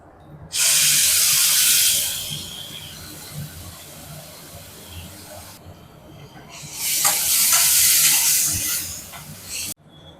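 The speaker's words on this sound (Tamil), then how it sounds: "இப்போ இஞ்சி பூண்டும் வதங்கிடுச்சு. இப்போ தக்காளியை போட்டுக்குவோம்." Tomatoes sautéing with ginger and garlic for a spicy chicken dish: two loud, close bursts of steamy hissing sizzle, each lasting several seconds, with a quieter stretch of softer frying between them.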